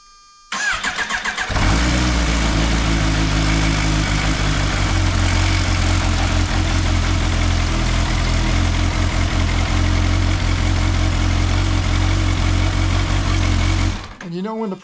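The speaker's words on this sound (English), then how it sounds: "And we'll give it a quick start." A supercharged car engine with a supercharger chain, freshly refilled after an oil change, cranks briefly, catches and settles into a loud, steady close idle for about twelve seconds before cutting off abruptly.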